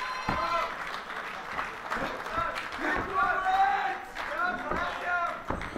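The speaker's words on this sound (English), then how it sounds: "Öcsi wants the noise from the crowd. They're happy to oblige" A wrestling crowd cheers and applauds after a big body slam in a tag team championship match, a rolling roar of noise under a commentator talking over it.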